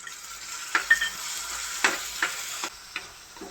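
Onion and tomato sautéing in a pan for a Kerala fish curry: a soft continuous sizzle broken by several sharp spoon scrapes and taps against the pan, close and moderately quiet, with no talking.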